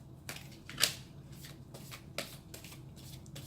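Tarot cards shuffled by hand during a reading: soft papery riffles and taps recurring through the stretch, with one sharper flick near the start, quiet and close, with no voices.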